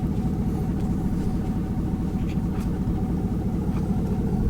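A Cummins diesel truck crawls off-road through woods in two-wheel drive, its low engine rumble holding steady and close, with faint knocks over the top.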